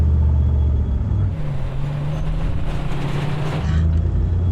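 A 1959 Corvette C1 pulls away from close by. Its deep engine rumble idles, then steps up in pitch and holds a loud, steady drone as the car moves off.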